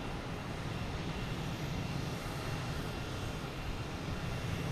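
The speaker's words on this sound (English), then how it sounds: "we have JetBlue coming in" A JetBlue airliner arriving from Pittsburgh at Boston Logan Airport gives off a steady, even jet roar that holds for several seconds at moderate distance, with no voices over it.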